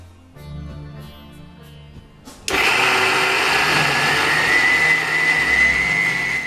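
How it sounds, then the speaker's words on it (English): Sprouted green gram is coarsely ground in a grinder: after soft background music, a loud, harsh whirring starts abruptly and runs steadily to the end. "So firstly we have to coarsely grind our sprouted green"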